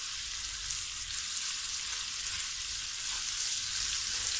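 Onions fry in oil in a karahi pan, a steady close hiss and sizzle with faint stirring, continuous and without speech.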